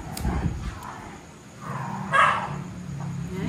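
Boss D's dogs bark in the background, a few faint yaps and a whimpering call amid room noise and low murmuring, distant rather than close.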